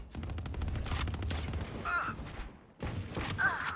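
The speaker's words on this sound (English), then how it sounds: "I'm shooting you." Rapid automatic gunfire from the first-person shooter Valorant rattles in tight bursts, a long stuttering volley, a pause, then another burst, loud and close with game effects ringing between.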